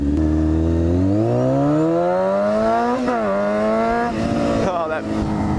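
A Honda F4i motorcycle engine on the move, loud and close, its revs climbing steadily through the gears with shifts and brief dips, carrying on the whole time without pauses.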